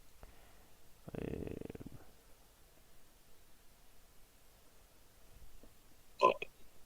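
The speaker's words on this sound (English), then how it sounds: "burp" A single short, loud burp erupts near the end, following a quiet stretch and an earlier low rumbling noise.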